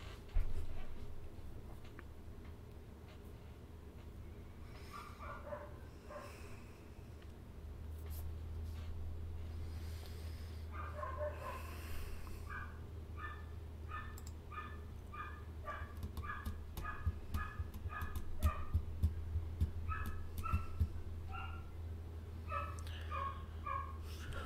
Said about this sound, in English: it sounds like upstairs I got dog fights going on, or puppies just losing his mind